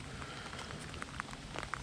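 Light rain spatters on the surface during a bass fishing outing, a soft steady patter with occasional sharper drops standing out, no voices.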